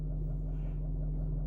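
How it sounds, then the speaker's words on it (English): A Range Rover TDV8 diesel V8 idles in park, a steady low hum with a constant drone and no rise or fall, heard alone at moderate level throughout. "Okay, so this is in park. Engine's running, as you can hear."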